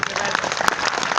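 Audience applause at a Hindi kavi sammelan poetry gathering in Morena: a short burst of scattered, fairly faint hand clapping.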